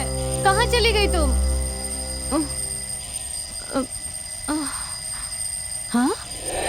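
An alarm rings steadily in the background in a dubbed South Indian horror thriller while someone speaks over it in short, anxious phrases.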